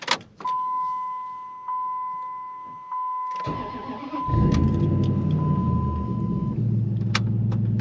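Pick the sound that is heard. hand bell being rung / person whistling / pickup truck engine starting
pickup truck engine starting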